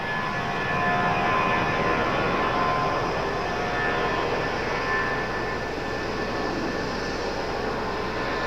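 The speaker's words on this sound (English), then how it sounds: "Thought maybe he was gonna abort that takeoff." A JetBlue jet airliner on its takeoff roll at Raleigh-Durham airport, a steady loud broadband engine roar holding for the whole stretch with no voices over it.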